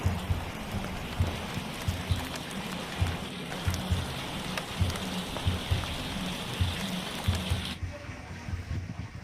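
Rain falls steadily in a dense, close hiss, with irregular heavier drops tapping and pattering on a surface throughout before the downpour thins out near the end.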